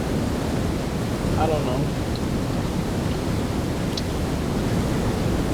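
Waterfall in the CryEngine video game Project: Contingency: a constant broadband rushing of falling water fills the scene at even loudness, with a brief mumbled voice over it.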